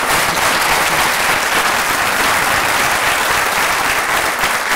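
A studio audience at a French television show bursts into loud, sustained applause, dense and even from start to finish with no voices on top.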